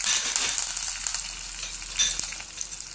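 Sesame seeds, curry leaves and chillies crackle and sizzle loudly in hot oil for a tempering, a close, continuous spitting hiss with sharp pops, no voices.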